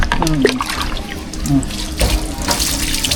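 Tap water runs steadily while a puppy is bathed indoors, a constant splashing rush with a voice and small yelps over it.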